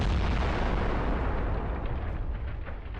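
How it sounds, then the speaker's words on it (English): A tank's ammunition explodes after a drone strike, blowing off its turret, a massive roaring blast filling the air with dense, sustained rumbling noise that slowly fades. "The explosion was so powerful that the tank's turret was blown off."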